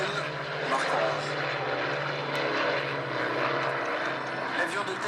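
A Dassault Flamant MD 315 twin-propeller aircraft drones steadily overhead at an air show at Avord, a continuous loud engine hum with a low tonal throb, with a voice faintly present beneath.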